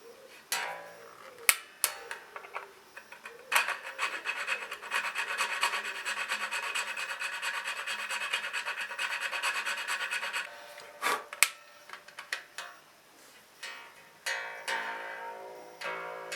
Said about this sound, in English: we need to kind of open that saddle slot out a bit